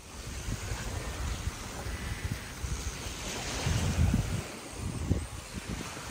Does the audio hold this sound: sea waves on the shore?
yes